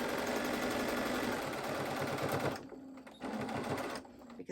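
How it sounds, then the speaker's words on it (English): A sewing machine back-stitching quilt binding, running in a fast, steady mechanical chatter nearby, then pausing briefly and starting again before stopping. "this time I do a little bit of back stitching"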